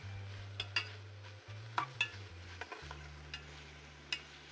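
Drunken noodles fry and get stirred in a pan, with a steady low sizzle, scattered utensil scrapes and clicks, and a couple of brief pauses in the frying hiss.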